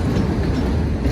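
A two-mile-long CSX grain train of empty cars passes on the tracks, giving a loud, steady rumble with wheel clatter heard close by and no talking.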